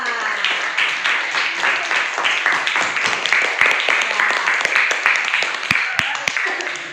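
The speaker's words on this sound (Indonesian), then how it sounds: "Tepuk tangan untuk semua." A primary school class of sixth-graders claps together in a classroom, a sustained, fairly close burst of hand claps with a few louder individual claps standing out near the end.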